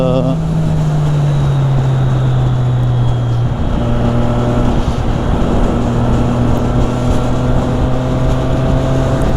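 A Triumph Street Triple 660S motorcycle in A2 restricted form runs loud and close, its engine note stepping through quickshifter gear changes with steady droning tone and brief pitch drops between gears, wind rush underneath.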